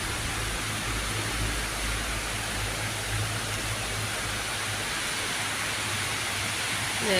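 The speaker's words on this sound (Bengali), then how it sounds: "কি পরিমাণ বৃষ্টি হইতেছে," Heavy evening rain pours down steadily outdoors, a dense, even wash of noise with a low rumble underneath that holds throughout without pause.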